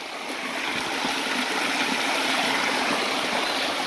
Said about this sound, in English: I think the water does come down from up there.